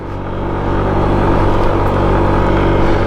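SYM 125cc motorcycle engine held at full throttle while climbing a hill on a road trip, a steady loud droning rumble that holds constant throughout without pause.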